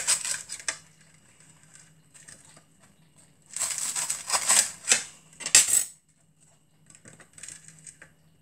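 A knife cutting beans on toast into four pieces on a plate, close, sharp clinks and scrapes of metal on crockery that come in short clusters separated by quiet gaps.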